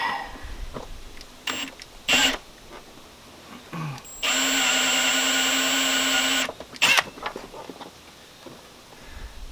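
A power drill bores a hole in a car part for a five-speed swap on a Grand Marquis, whirring steadily for about two seconds between short bursts, knocks and handling noises nearby.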